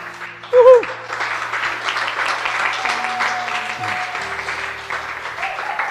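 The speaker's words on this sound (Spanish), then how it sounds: "vamos primero que todo a aplaudir" Audience applause at a live panel-discussion podcast recording, a steady wash of clapping that runs for several seconds, with a brief louder burst near the start and faint tonal sounds underneath.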